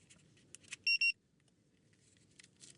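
A car alarm system gives two quick, sharp electronic chirps in a row, clear above a quiet background of faint rustling and low hum.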